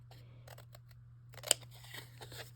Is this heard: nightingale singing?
no